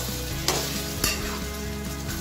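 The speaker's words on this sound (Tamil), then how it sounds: "இதை நல்லா மிக்ஸ் பண்ணி விட்டுறலாம்" Chicken pieces with ginger garlic paste frying in a pan for Andhra-style pepper chicken, a steady close sizzle with a couple of sharp scraping stirs, no voices.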